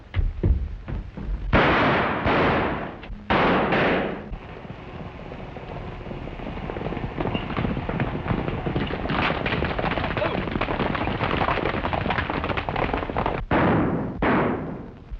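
Gunfire in a 1935 western film: several sharp bursts in the opening seconds and near the end, with a steady rushing background between them.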